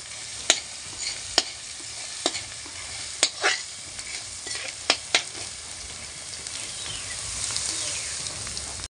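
Chowmein ingredients are stir-fried in a hot pan, with a steady oily sizzle and sharp metallic scrapes and clanks from a spatula striking the pan at irregular intervals, close and fairly quiet, with no voices.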